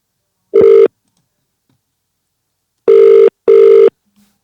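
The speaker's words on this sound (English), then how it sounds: "So we'll be calling Ms. Carla right now" A telephone rings in short electronic bursts: one ring, a pause, then two more rings in quick succession, loud and close.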